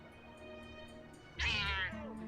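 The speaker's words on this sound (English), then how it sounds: "So each of the Tantas have these familiars of kitty cats, and they all have different designs." Cat familiars in Forspoken let out a single clear meow near the middle, rising then falling, over a quiet game ambience with no talk.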